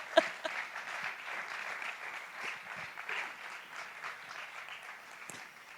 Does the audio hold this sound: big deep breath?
no